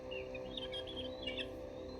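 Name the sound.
hawk calling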